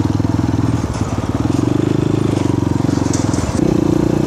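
An Asian Beast 250 motorcycle, 2020 model, runs close by with a steady, loud, rapid throbbing engine pulse and slight rattling throughout.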